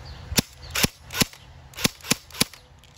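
A Cybergun AKS-74U airsoft rifle fires on semi-auto: six sharp, close snaps come at uneven intervals of roughly a third to half a second, each a crisp crack against a quiet background.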